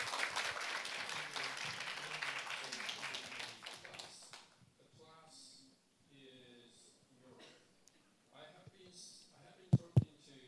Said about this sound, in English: welcome Secretary General Zhang Jun with a big applause.